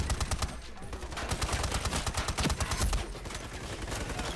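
Rapid automatic gunfire rattles in dense bursts from the online shooter game Ironsight, steady rhythmic shots with a brief pause in the middle, moderately loud and up close.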